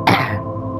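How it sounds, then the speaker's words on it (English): One short, harsh cough, close and fairly loud, trailing off quickly into quiet. "Sorry, I have a very bad cough."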